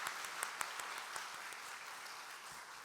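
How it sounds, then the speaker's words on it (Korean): A church congregation claps in welcome for visiting missionaries, a steady crowd applause with a few sharper near claps standing out, continuous to the end. "잠깐 일어나시면 박수로 환영하겠습니다."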